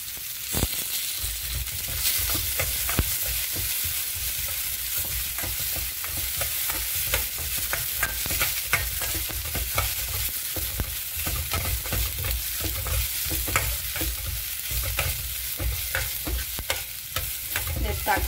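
Chopped tomatoes and onions sizzle steadily in a hot pan while a spoon stirs and scrapes them, a constant frying hiss punctuated by frequent clicks and scrapes, with no talk.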